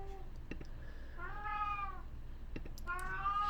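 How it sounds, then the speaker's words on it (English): A pet cat meows twice in drawn-out, rising-and-falling calls, close and clear over a low background hum, with a few soft clicks between. "My cat says hi."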